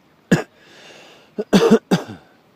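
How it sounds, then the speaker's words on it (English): Several sharp coughs, one single then a quick double burst and another, close and loud against a quiet background. "I coughed when he was underwater"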